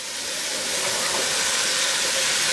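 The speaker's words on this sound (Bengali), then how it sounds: "আর আমি এটা হাই হিটেই ভাজতেছি যাতে সিদ্ধ না হয় সবজিগুলা" Cauliflower and other vegetables fry on high heat in a pan, giving a loud, steady hiss and sizzle that fills the whole stretch without a break.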